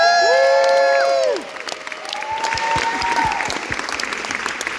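A theatre audience at a live concert breaks into applause and cheering, with loud whoops at first, then settles into steady, fairly loud clapping with scattered shouts.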